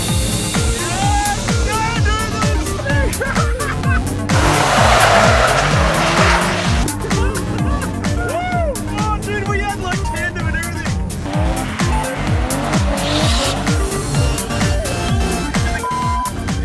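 A Daihatsu Kancil Mira kei car drifts with loud, sustained tire squeal over a revving engine, rising in bursts across the run, while people talk nearby.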